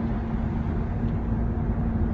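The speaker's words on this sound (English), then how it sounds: "There's more traffic here than I'm used to at this hour" Steady, dense roar of New York City street traffic near the Chrysler Building, a continuous low rumble of engines and tires with no distinct horns, holding level throughout and without talk.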